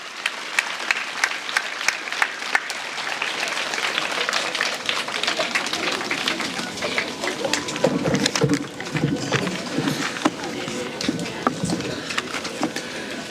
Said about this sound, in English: Can we give a round of applause to those who are coming?